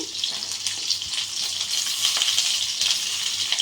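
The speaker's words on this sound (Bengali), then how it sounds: "আমি এখন পটলগুলো তেলে ভেজে নেব। আমি এখানে সর্ষে তেল দিয়ে দিয়েছি।" Pointed gourds frying in mustard oil in a pan make a continuous, close sizzling hiss with small crackles and pops, with no voices heard.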